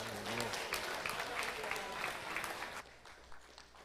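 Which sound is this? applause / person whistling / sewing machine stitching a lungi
applause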